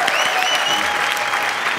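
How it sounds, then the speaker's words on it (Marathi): Audience applause at a comedy show on a Marathi stage, a steady close burst of clapping that fills the short moment without pause. "टाळ्या."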